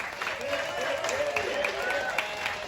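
A crowd at an outdoor ribfest claps and cheers for a Best Showmanship award winner, steady dense applause with voices calling out through it.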